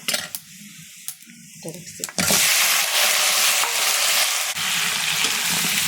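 Potatoes frying in hot oil in a pan, a loud, steady sizzle that bursts in abruptly after some quiet clinks and kitchen handling, then holds a dense crackle to the end.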